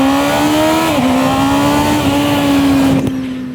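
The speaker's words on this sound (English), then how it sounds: "the fundamental sound of an inline 4 when it's revving its nuts off" A Honda CB650R inline-four motorcycle engine revs hard and high, a loud, sustained whine that dips briefly then climbs again before easing off.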